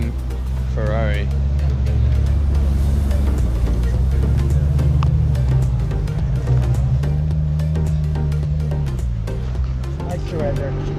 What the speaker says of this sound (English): It's a front engine Ferrari.